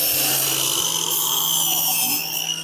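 A loud, close power saw runs steadily as it cuts diagonally at 45 degrees through a wooden post for a greenhouse frame, a constant high whine with no pauses.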